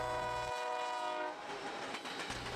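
An EMD SD70ACe diesel locomotive sounds its horn loud and close in two strong blasts, one at the start and one near the end, with rumbling engine and rail noise carrying on between them.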